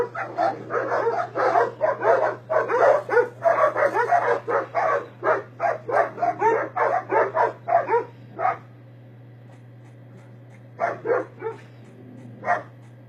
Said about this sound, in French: des chiens qui aboient et qui font beaucoup de bruit